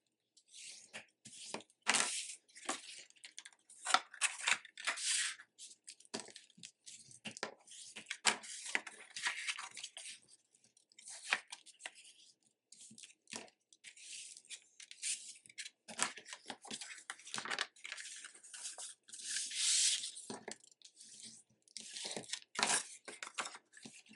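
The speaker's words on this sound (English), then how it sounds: "we will fold and burnish all of them." Scored paper for a handmade gift box is folded and burnished. Soft, close crinkles, scrapes and rubbing strokes come in quick irregular bursts throughout.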